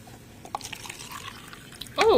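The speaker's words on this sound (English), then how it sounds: "we're getting some ASMR water pouring" Water poured from a container, a faint drip or two early on, then a brief gurgling splash of liquid at the end.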